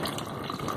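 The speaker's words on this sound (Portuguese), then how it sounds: "Aí eu escorro novamente essa água" Water pours and trickles out of a container as it drains, a steady close splashing flow with small drips and no voices.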